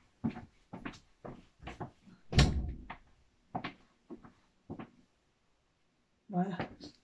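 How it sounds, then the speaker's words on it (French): Indoors, a door is pushed shut with one solid thunk partway through, among a run of lighter bumps and handling knocks before and after. "Je reviens, je ferme la porte."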